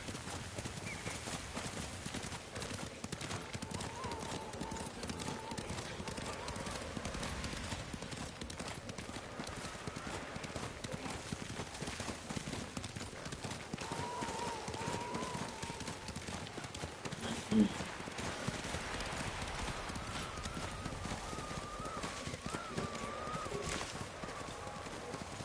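Horse hooves clip-clop steadily over ground in the game Ghost of Tsushima, a continuous moderate trot under a bed of wind and ambient noise, with a brief whinny and occasional talk.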